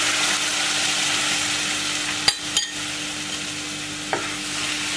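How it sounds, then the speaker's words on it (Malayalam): Tomato puree being stirred into a pasta red sauce in a pan, with steady frying sizzle throughout and a few brief utensil clinks partway through, close and moderately loud with no talking. "ഇനി ഇതിലേക്ക് നമ്മൾ എടുത്ത് വെച്ചിരിക്കുന്ന ടൊമാറ്റോ പ്യൂരി കൂടി ആഡ് ചെയ്യാം."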